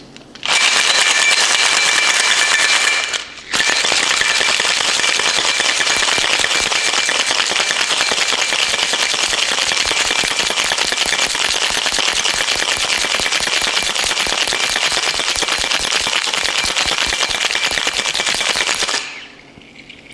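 Espresso and ice are shaken hard in a cocktail shaker for a shakerato, giving a loud, fast rattling of ice that runs briefly, stops for a moment, then continues steadily for about fifteen seconds before ending.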